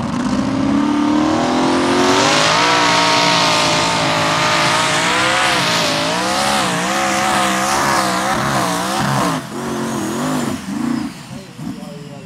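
A loud pulling-tractor engine at a tractor pulling event in Haßmoor in 2023 revs hard and climbs in pitch, roaring continuously with wheelspin, then sputters and wavers near the end; a voice talks over it.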